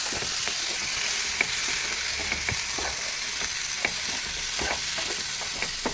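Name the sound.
stirring pineapple in a cooking pan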